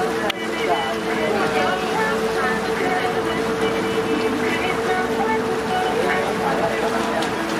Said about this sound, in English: Fast ferry leaves the island of Koh Samet.